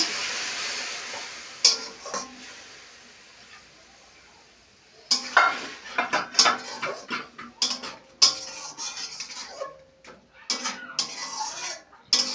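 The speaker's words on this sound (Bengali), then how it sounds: "এই দুধ দিয়ে এইভাবে নাড়তে হবে নেড়ে নেড়ে একদম রস মেরে নিতে হবে" A carrot barfi mixture stirred with milk in a pan, where a spoon scrapes and clinks against the metal in quick bursts after a quieter hissing stretch at the start.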